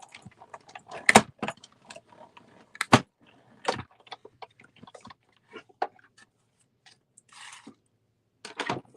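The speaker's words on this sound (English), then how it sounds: "So die cut these out." Cardstock is die cut by hand into shapes, producing scattered sharp clicks, clacks and handling thumps separated by quiet gaps, close and irregular, with no speech.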